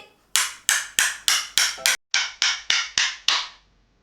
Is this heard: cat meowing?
no